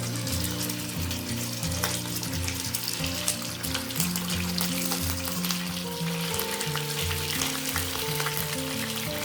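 Half a kilo of chicken fries in a pan over low heat for a spicy bhuna, a continuous soft sizzle under a steady low hum, with no talking.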